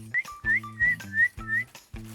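Human whistling meant to call dogs: five short rising whistled notes in an uneven rhythm, fairly close and clear, with a low background hum between them.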